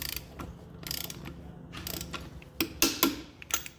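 Ratchet clicking as a lug nut is tightened on a car wheel during a tire change, a few short mechanical bursts, the last ones louder and sharper, with no talking.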